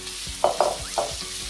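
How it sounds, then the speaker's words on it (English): Garlic butter shrimp sizzle in a hot pan on high heat, a soft steady fry broken by a few quick scraping stirs, with no one speaking. "you want to keep your heat on high until the shrimp is finished cooking"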